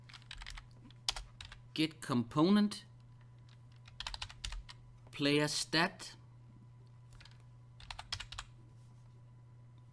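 Code is typed on a computer keyboard for a game AI tutorial, short bursts of close key clicks spread across the clip, broken up by a voice speaking over a low steady hum.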